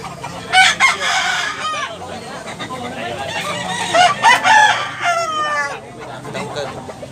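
Several roosters crow and hens cluck close by at a poultry market in Tabunok, Cebu, crowing calls overlapping in bursts amid a busy, noisy outdoor setting.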